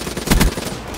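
Gunfire in the multiplayer shooter Black Ops 3, a short loud burst of several shots in quick succession over steady game background noise.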